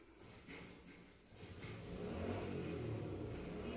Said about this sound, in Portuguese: esse barulho de moto tá terrível